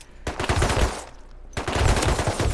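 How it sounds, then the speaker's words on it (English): Rapid bursts of gunfire-like crackling and popping from a flashbang grenade going off in the video game Rust, two loud clusters split by a brief gap, close and dense. "let's go ahead and flashbang one of these suckers"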